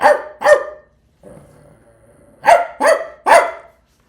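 A man imitates a barking dog with his voice: two quick gruff barks, a low growl, then three more loud close barks in a row.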